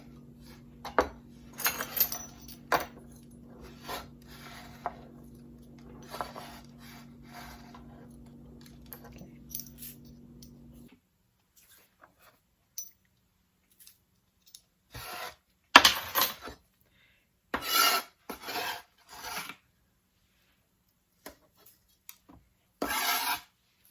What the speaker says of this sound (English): I'm going to chop up a total of 5 tablespoons of chopped garlic